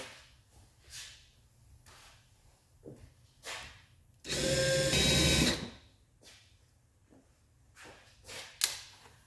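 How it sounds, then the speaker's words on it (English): A power drill driving screws whirs in one loud burst of about a second and a half, surrounded by quieter scraping and handling noises, while rebuilding Zenith 40 TIN 3-barrel carburetors. "I'm gonna hit all these with the drill"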